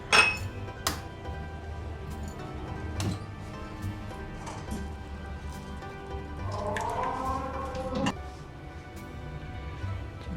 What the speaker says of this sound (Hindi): उसके साथ साथ लेते हैं हम एक बॉल, जिसमें हम डालेंगे अंडे।